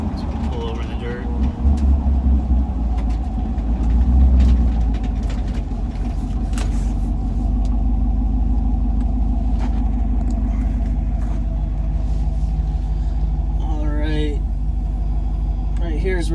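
A car fitted with a swapped Gen V L83 engine pulls off onto a dirt shoulder in Mexico, its engine a steady low rumble throughout, with heavier low thumps near the start and a brief higher squeal toward the end; voices talk over it.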